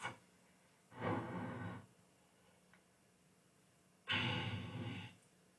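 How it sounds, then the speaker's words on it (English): Slow, deep breaths during a yoga exercise: two long, audible exhalations a few seconds apart, close to the microphone, with quiet pauses between them and a faint tick. "Adjust the breathing, keep breathing"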